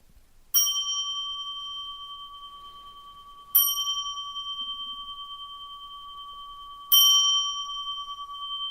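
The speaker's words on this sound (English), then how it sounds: "3 bells, please." A bell is struck three times at slow, even intervals, each clear metallic ding ringing out and fading in near silence.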